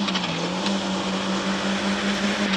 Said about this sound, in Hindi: वो अच्छी गाड़ी भगाते हैं इसको, कितनी स्पीड में भागती है गाड़ी।